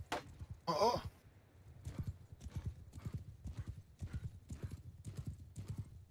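Horse galloping in the online PvP video game Bannerlord, a steady, rhythmic clip-clop of hooves close by with a short whinny near the start.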